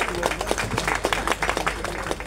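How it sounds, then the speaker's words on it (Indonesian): Invited guests at a book launch at the ARMA museum clap in a dense, close burst of applause, with the separate claps plainly audible and no talking over them. "Boleh tepuk tangannya Bapak Ibu tamu undangan."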